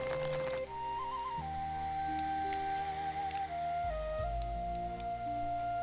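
Steady cold spring rain patters across a forest for the whole stretch, with sustained musical tones drifting over it and no voices.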